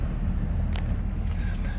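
A 1964 Corvette with a 250 horsepower engine idling, a low steady rumble close by, continuous and even throughout the short stretch.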